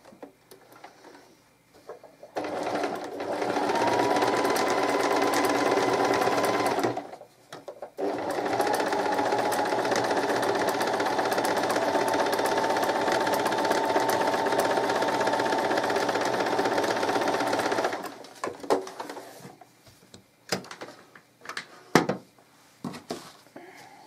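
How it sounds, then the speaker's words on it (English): A sewing machine stitches a seam a quarter inch from a marked line through two fabrics, running in two long steady bursts with a brief pause between, then stopping for scattered handling clicks and taps. "I'm going to stitch 1/4 inch away from that line on the other side"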